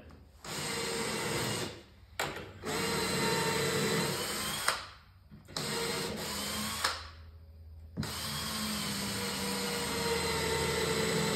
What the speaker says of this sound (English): I'm just gonna go ahead and screw it in.